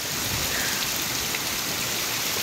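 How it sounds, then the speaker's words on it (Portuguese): Heavy rain lashes down with wind at a home in Quixadá, a dense, steady roar of drops on surfaces with no voices. "Aqui é muita chuva com vento"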